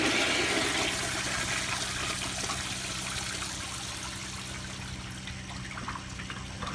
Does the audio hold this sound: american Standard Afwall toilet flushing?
yes